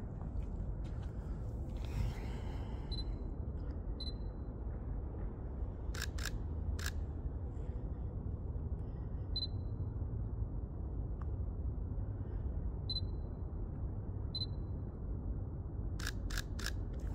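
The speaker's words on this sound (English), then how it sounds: "It's nice to go out and take some pictures." Crisp single-lens reflex camera shutter clicks, single and in quick pairs and triples, scattered across a steady low outdoor rumble during a car photoshoot with Recaro seats.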